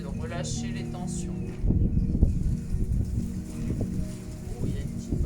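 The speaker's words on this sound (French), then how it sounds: "il y a une petite brise de vent d'un coup d'un seul" A sudden light breeze gusts outdoors during a seniors' exercise class, rushing against the microphone in uneven bursts after a voice speaks.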